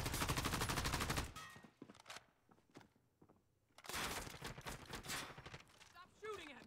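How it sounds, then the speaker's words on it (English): Bursts of automatic gunfire in the Call of Duty game Warzone, loud dense volleys at the start and again later, separated by a quieter stretch of scattered thuds and footsteps. "Stop shooting at me!"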